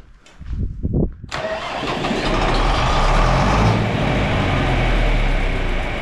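A John Deere tractor engine cranks briefly, then catches and settles into a loud, steady rumbling idle that continues for several seconds.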